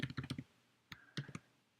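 Close computer keyboard typing: a rapid burst of several key clicks, a pause, then a few more scattered taps, crisp and alone with no talk.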